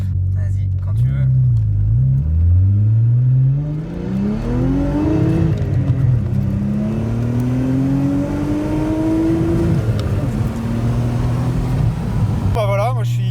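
An Audi S4 accelerates hard from about 30 to 100 km/h, its engine note climbing loud and close through several gears with brief dips at each shift, then settling into a steady drone.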